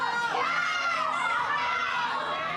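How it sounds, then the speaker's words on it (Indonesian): A crowd of residents, mostly women, shouts at a murder suspect as police lead her to the house where the crime happened, a dense, continuous wall of raised voices close by. "Teriakan pembunuh dilontarkan warga saat Iftahur Rahmah digiring polisi ke rumah"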